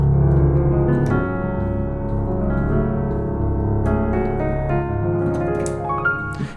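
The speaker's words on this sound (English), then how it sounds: "That is the sound of the minor plagal cadence." Gospel piano sustaining rich minor chords that resolve in a plagal cadence, sounding alone and steady with no talk.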